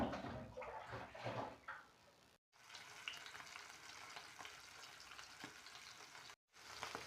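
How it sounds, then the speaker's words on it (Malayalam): River fish coated in masala, salt and chilli fries in a pan, giving a loud, close, continuous sizzle with crackling bursts, broken by two brief silences. "നമ്മുടെ പൊയ്മീന് നല്ല പൊരിയുന്നുണ്ട് കേട്ടോ"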